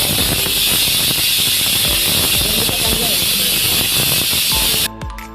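Onions fry in a hot pan for Mangalore-style chicken sukka, giving a loud, steady sizzling hiss that runs nearly the whole time before dropping away sharply at the end.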